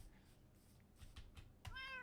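A Minecraft cat gives a short, faint meow near the end of a quiet stretch of soft in-game knocks and footsteps, with no voices.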